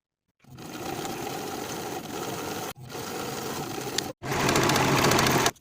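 A sewing machine stitches a 3/8 inch seam on a cropped jacket, running in steady, close bursts with two brief pauses between runs.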